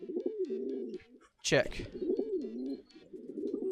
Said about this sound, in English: Man, you are so loud, birds.